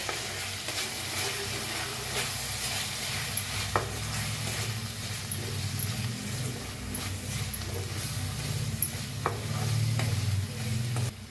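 Masala with turmeric, Kolhapuri red chili and salt is stirred in a frying pan for sprouted moth bean usal, with a steady sizzle under repeated scraping strokes of the spoon, close and continuous throughout.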